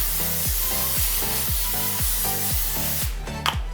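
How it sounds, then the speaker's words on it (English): Non-stick cooking spray hisses onto a parchment-lined baking sheet for popcorn in a short, close burst near the end, over steady background music. "we're gonna spray it with a little bit of non-stick cooking spray"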